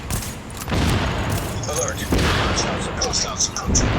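Rapid bursts of gunfire in Tom Clancy's The Division crackle with booming impacts as a gas tank is shot, fairly loud and continuous over a noisy background.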